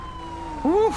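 A police car siren wails briefly in a short, rising and falling sweep over steady background noise near the end.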